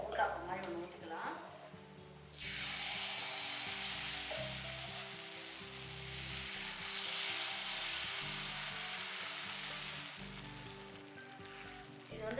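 Uttapam batter hits a hot griddle and bursts into a loud, steady sizzle after a quieter start, with a voice talking over the frying.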